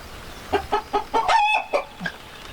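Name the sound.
rooster crowing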